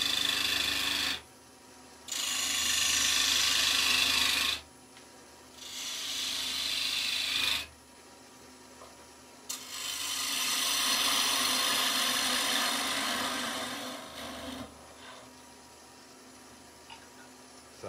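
A wood lathe cuts a recess into a wooden Christmas tree bird box held in large dovetail jaws, the tool giving several bursts of loud hissing, scraping shear separated by quieter gaps of motor hum.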